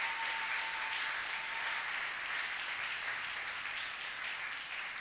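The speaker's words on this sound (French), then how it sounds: "On peut acclamer très fort le Seigneur." A church congregation applauds loudly and steadily at a worship service, a dense, continuous wash of clapping that fills the space without pause and with no voices rising above it.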